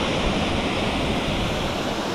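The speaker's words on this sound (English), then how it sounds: "get close to the waterfalls just here" Waterfalls pour in a steady, loud, broadband rush close by beside an old sheepfold, filling the whole moment with continuous white-noise roar and no voices.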